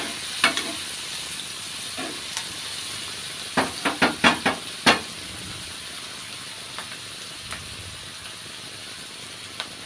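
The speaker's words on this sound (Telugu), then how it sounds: "కొంచెం పసుపు, ఉప్పు వేసి బాగా వేయించానండి ఉల్లిపాయలు" Onions frying in a pan with turmeric and salt, giving a steady soft sizzle with a few light stirring scrapes clustered near the middle. No one speaks.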